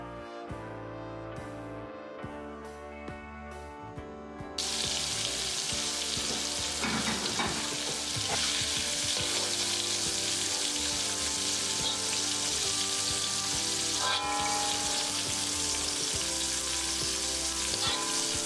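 Oil sizzles and crackles steadily after shrimp drop into a hot pan for a first half-cooking fry, a loud continuous frying hiss with scattered pops throughout.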